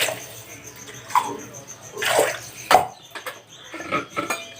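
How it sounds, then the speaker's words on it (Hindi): During household cleaning, water is poured and splashed in uneven bursts with clinks and knocks of containers, close and moderately loud. "मैं पानी डालना है"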